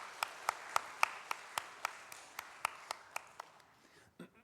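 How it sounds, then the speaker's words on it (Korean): A lone person clapping slowly and steadily in a church during a Sunday service, about fifteen evenly spaced claps that fade in loudness toward the end, with no voices. "다시 한번 감사와 격려의 박수하도록 하겠습니다."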